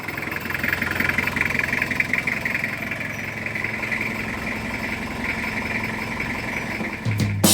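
Close, steady idle of a Toyota Qualis diesel engine with a rhythmic clatter and low hum, continuing unchanged for several seconds before a sudden clunk at the end.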